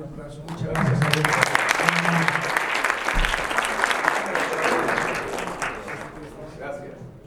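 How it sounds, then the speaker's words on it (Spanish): Conference audience breaks into applause for a speaker, dense clapping swelling quickly and holding for several seconds before tapering, with a voice speaking briefly at the start. "el señor Alberto Achardi, un aplauso"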